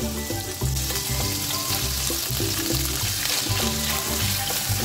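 Paneer cubes fry lightly in shallow oil with a steady, moderate sizzle over a low tonal backing, continuous and close, with no talk.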